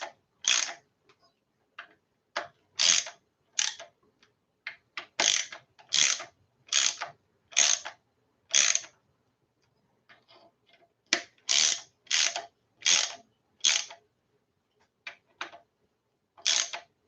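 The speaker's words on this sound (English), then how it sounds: "So you want to work your way evenly through the tightening process" Caps being tightened down evenly on a 1.8T engine, heard as repeated ratchet clicks: short, close bursts in a steady stop-start rhythm with brief pauses between them.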